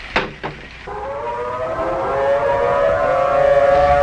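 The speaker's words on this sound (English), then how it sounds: "I'm going to sound the sirens." Civil defense tornado warning sirens wind up into a loud, steady rising wail that fills the air and holds for several seconds after a couple of brief knocks at the start.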